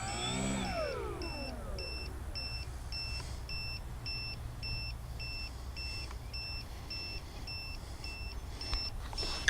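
A steady, regular battery low-voltage alarm beeps at a quick even pace over a constant low electric motor hum of an Apprentice S 15e RC airplane, with no talking.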